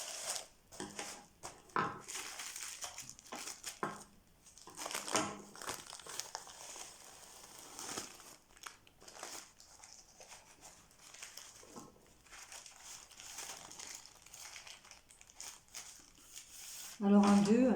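Kitchen scissors cut brick pastry sheets in half while samosas are being made, giving a continuous dry crinkling and crackling close by, with speech heard alongside.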